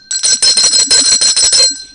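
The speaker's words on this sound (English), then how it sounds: "let me get my bell." A hand bell is shaken rapidly, giving about ten bright, ringing strokes in a quick run that stops after less than two seconds. It is loud and close, with no voices.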